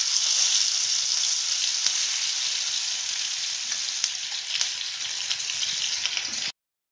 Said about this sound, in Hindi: अब इसमें डालेंगे बादाम और खसखस का पेस्ट